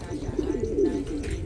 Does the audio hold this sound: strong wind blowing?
no